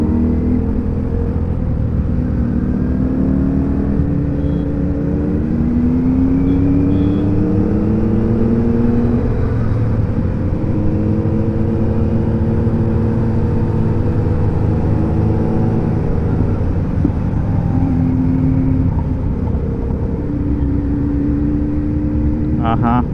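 A Suzuki Hayabusa Gen3 on its stock exhaust with the mufflers taken out revs repeatedly, its loud engine note rising and falling in sweeping pulls over a constant throaty drone, near and sustained throughout.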